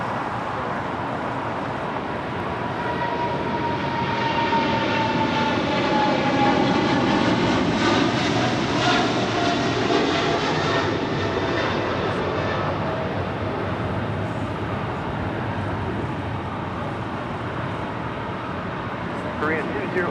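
Heavy Boeing 777 airliner departing a runway at LAX, its jet engines building to a loud, sustained roar that swells near the middle and slowly eases, with radio chatter faintly audible in places.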